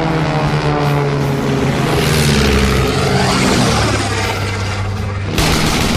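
An SE-5 and a German triplane, both WWI aircraft, drone with loud, continuous engine and propeller noise that swells and shifts in pitch throughout, with no talk.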